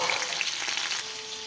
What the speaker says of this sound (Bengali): হালকা হালকা করে একটু জাল দেবো, মানে আমটা সিদ্ধ হয়